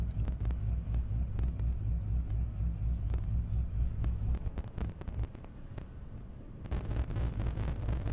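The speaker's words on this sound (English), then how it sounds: "Kevin Kahn and the Corvette pulling up" A Corvette drag car at an airport drag strip rumbles loudly and steadily at idle close by as it rolls up to the starting line, with a deep throbbing engine note and wind buffeting.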